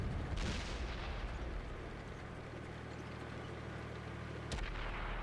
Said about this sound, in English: He's going to get a nice finishing shot on this Borsig